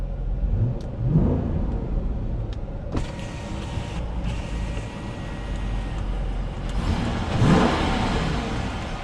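A 2018 Dodge Durango R/T AWD V8 engine revs up and down a few times under steady background noise, with a sharp click partway through.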